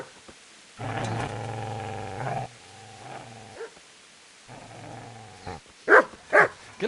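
Dog in the video game Kingdom Come: Deliverance growls in a long, deep, rumbling stretch, then again more faintly after a pause, followed by two sharp, loud barks or snarls near the end.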